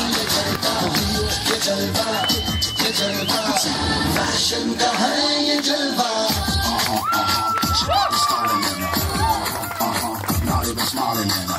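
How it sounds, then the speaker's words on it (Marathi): Loud, dense crowd cheering with shouting children and clapping at a mehndi ceremony, sustained throughout with whistles and voices rising over it. "जोरदार टाळ्या."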